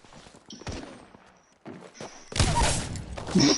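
Apex Legends video game combat with scattered single shots early, then a louder burst of rapid gunfire later, plus footsteps and thuds in between.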